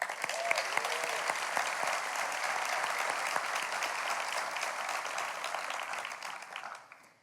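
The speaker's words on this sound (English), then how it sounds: "So graduates, let's give ourselves a round of applause." Graduates clapping for themselves at a 2021 high school graduation ceremony, a large crowd's sustained applause with scattered sharper claps, steady for several seconds before fading out at the end.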